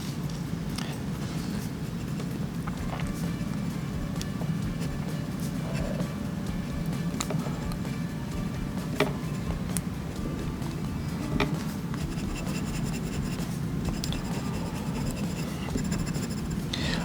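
A fountain pen filled with Pilot Iroshizuku Yu-Yake ink writes sentences on a journal page, making a soft, continuous close scratching with small strokes and pauses.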